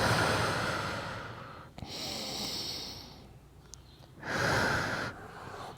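Slow, deep breaths taken by a senior holding a stretch on an exercise mat. About three long, airy inhales and exhales rise and fall close by, with no talking.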